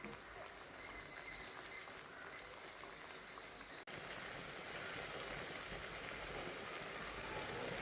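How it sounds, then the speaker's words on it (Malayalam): Vada deep-frying in hot coconut oil in a pan, a dense, continuous sizzling crackle that holds loud and steady throughout, close by and without speech. "പാനിൽ വെളിച്ചെണ്ണ ഒഴിച്ചിട്ട് പാകമായി, അതായത് ചൂടായി വന്നിട്ടുണ്ട്. നമുക്ക് വട ഇതിൻ്റെ ഉള്ളിലേക്ക് ഇട്ട് കൊടുക്കാം."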